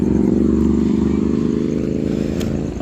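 Motorcycles ride along a highway at night, their engines giving a steady, loud, continuous drone with a rough low rumble and no break in sound.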